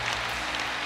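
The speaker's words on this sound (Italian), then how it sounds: "Gli applausi per il" A large stadium crowd at Stadio Olimpico applauds its captain in a brief, dense, steady wash of clapping with no distinct voices.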